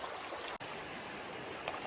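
Creek water flowing in a steady broadband rush, close and continuous, with a brief dropout partway through and no voices.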